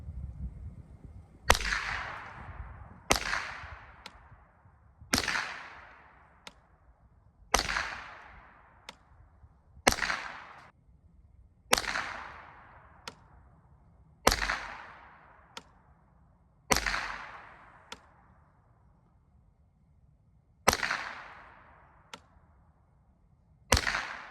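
Roughly a dozen single .22 rifle shots from an RIA TM-22, each a sharp crack with a short decaying tail, spaced a second or two apart, loud and close with no talking.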